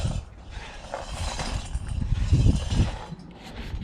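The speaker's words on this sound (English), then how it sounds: "Can you hear it moving inside the wheel if I'd move it side to side?" A loose suspension part knocks and rattles inside a car wheel as the wheel is rocked side to side, giving a series of dull low clunks close by, with faint scraping noise in the background.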